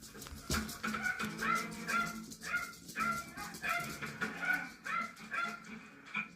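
A small dog barking repeatedly in quick, uneven bursts with whimpering yips between them, fairly close but quiet overall.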